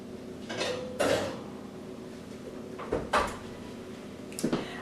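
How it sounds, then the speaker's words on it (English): A baking dish of pastelón, a baked plantain meat pie, being placed into an oven: a few close clunks and rattles of the dish and oven rack, with the oven door handled between them. "Let's place the pastelón in the oven."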